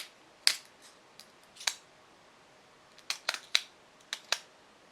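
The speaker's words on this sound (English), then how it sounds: "And let's twist it." Small clicks and ticks from twisting a ballpoint pen, a quiet irregular scatter of crisp mechanical snaps, close and faint, with no talking.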